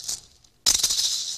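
A quick shake, a pause, then a louder burst of gritty, hissing rattles from a shaken maraca.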